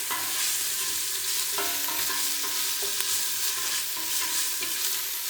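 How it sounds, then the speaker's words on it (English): Ginger garlic paste fries in a pan with a steady, close sizzle, broken by repeated scraping stirs of a utensil, while preparing chicken mandi rice at home. "the next I am going to add is the ginger garlic paste. and then fry this again for a few minutes till the rawness goes away"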